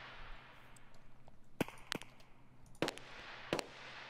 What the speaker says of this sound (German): Irgendwo dort hat es jetzt geschossen.